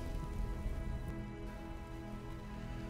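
Steady rain falls continuously, a dense even hiss of drops on surfaces with no pauses, moderately loud and close, with no other sounds standing out.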